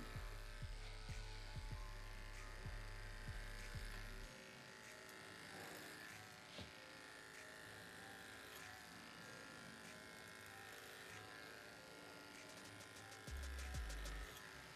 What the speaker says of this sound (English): Now we're using a white clipper comb because Mo's hair is dark